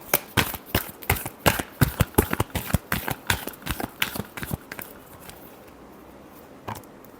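Tarot cards are shuffled by hand in a quick burst of about twenty crisp, rhythmic riffles close up, slowing and stopping after five seconds, followed by one last faint snap.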